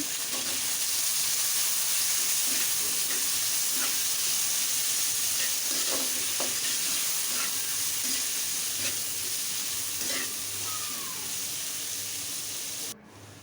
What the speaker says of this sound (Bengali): ফোড়নটা ভালো করে ভেজে নিব এখন দিয়ে দিলাম পেঁয়াজ